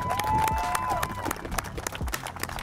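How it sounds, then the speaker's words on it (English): Crowd applause and cheering celebrating a newly set Guinness World Record, a steady wash of clapping with some voices mixed in, fairly loud and close. "One more huge round of applause for a new Guinness World Record."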